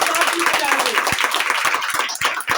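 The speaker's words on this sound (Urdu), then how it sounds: "جب آپ لوگ تالیاں بجاتے ہیں" Audience clapping at a church gathering, a dense patter of hand claps with sharp individual claps standing out, fairly loud and continuous across the moment.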